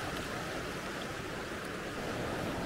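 Sea water surging in on a shore, a steady broadband wash of surf that stays close and fairly loud for the whole stretch, with no voices over it.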